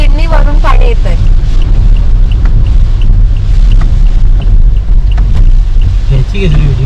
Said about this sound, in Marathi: हे बघा किती स्पीडनी वरून पाणी येत आहे.